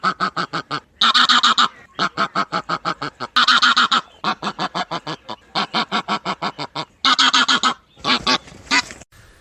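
Five white geese honk in rapid, repeated bursts, loud and close, with overlapping clusters of nasal calls separated by brief pauses.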